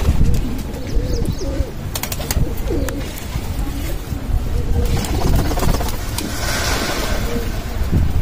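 Pigeons coo repeatedly nearby after eating their morning grain, soft rolling calls over a busy background with occasional chirps and faint traffic, and a voice speaks briefly.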